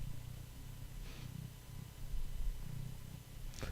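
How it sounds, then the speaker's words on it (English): A steady, low rumbling purr from a cat close to the microphone, continuous with slight rhythmic pulsing and a couple of faint soft rustles. "I can hear her purring over the microphone."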